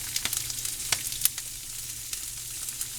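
Cubed cabbage frying in a pan gives a soft, steady sizzle, broken by a scatter of sharp little pops and crackles, heard close with no talking.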